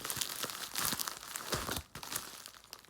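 Tape and wrapping tearing on a tightly taped package of gemstone beads, crinkling and ripping in quick, close bursts with a brief pause near the end.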